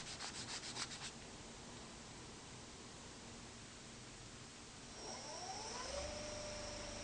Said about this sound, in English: check and sand